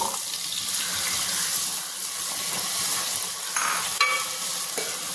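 Cut potatoes going into a hot pan for an eggplant potato curry, a loud continuous hiss and sizzle with scraping stirs, close up, with no voices.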